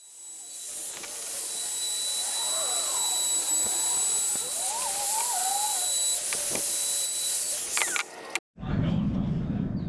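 A wood router cuts a 45-degree chamfer along a board, giving a loud, continuous high-pitched whine with shifting tones as it moves through the wood. It ends abruptly, followed by a brief burst of lower handling noise.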